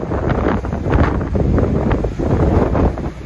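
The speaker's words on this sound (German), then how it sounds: "die letzten Tage war der Wind noch stärker. Er ist schon ein wenig abgeflaut." Strong coastal wind at Santa Ponça, Mallorca, buffets the microphone in loud continuous gusts and rumbles, with no voices.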